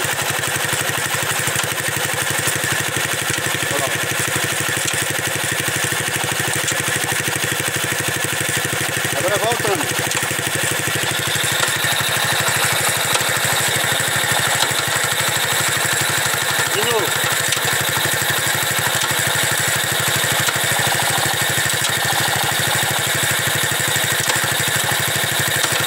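Volkswagen Beetle engine fitted with a motorcycle gearbox idles steadily in a constant, even drone throughout, with people talking over it now and then.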